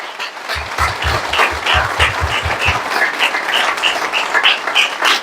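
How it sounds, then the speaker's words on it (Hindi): Audience applause at a leadership gathering, a steady dense clapping from a large crowd that sounds close and loud, continuing evenly throughout without any talk. "जबरदस्त तालियां होनी चाहिए, दिल से तालियां होनी चाहिए।"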